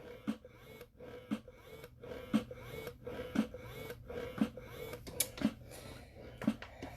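A breast pump runs at its full setting, giving a quiet, regular cycle of soft mechanical whooshes and clicks roughly once a second, close by and alone.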